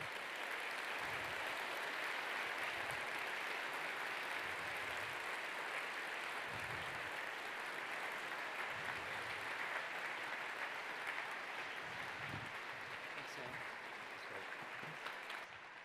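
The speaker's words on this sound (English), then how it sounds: "Let's have one more round of applause for Sam Gralla tonight." Sustained audience applause fills the hall after an evening science lecture on black holes and gravity, a dense steady roar of clapping with a few faint low thumps and no speech over it.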